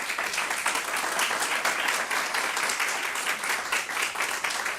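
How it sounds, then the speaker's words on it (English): Audience applause at the close of a talk at a data and digital methods seminar, a steady, full wash of many hands clapping that holds loud and even throughout with no voices over it. "I would appreciate a big applause for your talk."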